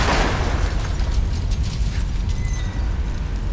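Bomb going off in the horror game The Evil Within, a loud, dense roaring blast that fills the whole stretch with rumbling, crackling debris and no voices over it.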